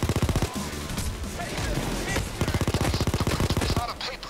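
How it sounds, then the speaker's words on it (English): An automated turret in PAYDAY 2 fires in long rapid bursts, loud and close, with a short pause between volleys and a voice talking briefly under the gunfire. "Oh, hello, turret. Back from the dead, I see."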